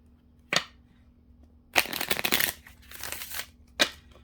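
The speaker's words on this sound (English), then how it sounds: "let me do another shuffle" Tarot cards being shuffled in short bursts: a quick riffle, a longer rustling shuffle, then one more brief snap, close and fairly quiet.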